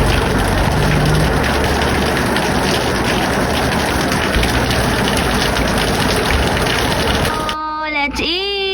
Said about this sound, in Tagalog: Pagkalabas ko nga, ang lakas pala ng ulan.